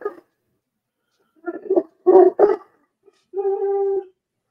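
A dog whimpering close by in short broken whines, a pause, then a sustained higher whine at the end, with no other sound.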